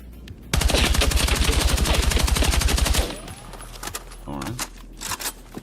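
Rapid automatic gunfire from a weapon in Battlefield 6, fired with recoil control, rattles loudly and steadily for about two and a half seconds, then stops and leaves quieter in-game clicks and mechanical noises.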